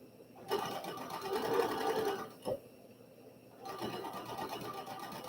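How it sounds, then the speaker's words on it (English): A sewing machine stitches fabric in a quilting session, a steady mechanical whir running in two bursts with a brief click and pause between them, close and fairly quiet. "I wanted to get my sewing machine out of storage and oil it up and use it."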